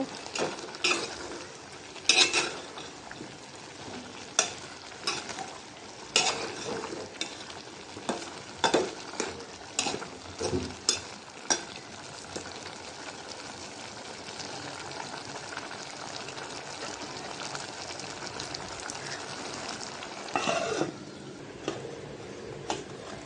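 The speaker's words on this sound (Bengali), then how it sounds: "সবজিটা সবজিটা একটা নাড়াচাড়া দিয়ে দিব" Pointed gourd and potato curry frying in a pan is stirred with a metal utensil, giving sharp repeated clanks and scrapes over a steady sizzle that keeps going once the stirring eases.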